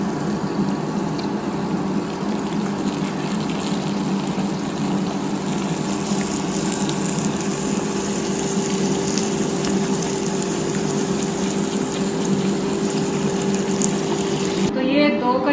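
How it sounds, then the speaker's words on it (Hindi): Pani puri shells fry in hot oil as a continuous, dense sizzle and bubbling, loud and steady throughout, with no clear talking. "आपने जब यहाँ से पिकअप करना है ना इसको, तो आपने ये साइड ऑयल में डालना है।"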